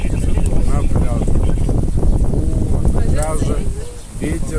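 Steady wind blowing on a beach in Sharm el-Sheikh, a constant rushing roar against the microphone under someone talking.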